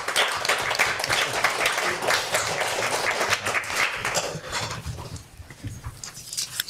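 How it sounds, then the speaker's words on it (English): A small meeting group claps briefly and fairly close, the clapping thinning out toward the end as a voice and other noises come through. "I think we usually applaud now or something."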